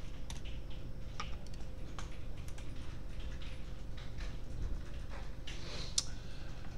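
Rapid, irregular clicking of a computer keyboard as code is typed, close and fairly quiet over a faint steady hum, with no talking.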